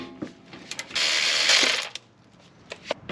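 A ratchet undoing a 14 mm brake caliper bolt on a Honda with rear disc brakes: close, rapid clicking pawl strokes in short bursts, with a sustained ratcheting spell in the middle.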